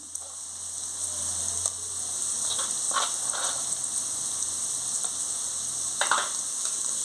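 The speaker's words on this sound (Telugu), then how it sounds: "ఇప్పుడు అల్లం వెల్లుల్లి పేస్ట్ వేసుకుంటున్నాను" Ginger garlic paste frying with mushrooms in a pan makes a steady, close sizzle, broken by a few soft scrapes of stirring, with no talking over it.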